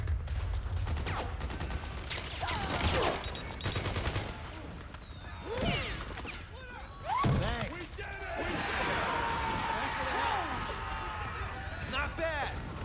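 Gunshots in the video game Metal Gear Solid 4, scattered bursts and single cracks amid busy game action, with someone talking over much of it.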